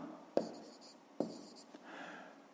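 Pen strokes scratching an answer onto paper for a grade 5 math exercise, two short distinct taps and scribbles followed by softer writing, close and quiet.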